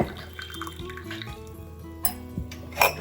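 Herbal tea trickles and drips into a cup as it is strained, with a few sharp clinks of metal against crockery.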